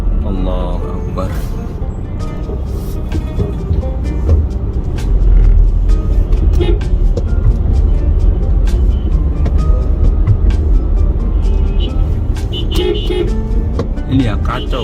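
Congested traffic in the streets of Mecca: steady engine rumble with frequent short car horn toots and honks from near and far, people talking over the din throughout.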